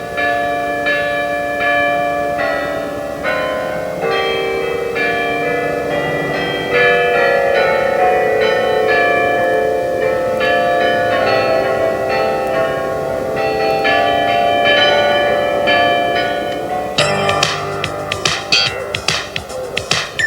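Many carillon bells, a set of 55 weighing 43 tons at the Rainbow Bridge, Niagara Falls, peal together in a rich, continuous cascade of overlapping tones, with a brighter burst of rapid strikes near the end.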